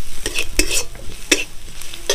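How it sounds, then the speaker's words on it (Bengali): Spices fried with chilli powder are stirred in a pan, a spoon scraping in a few distinct strokes over a low sizzle. "একটু নাড়াচাড়া করে ভাজা ভাজা করে নেব"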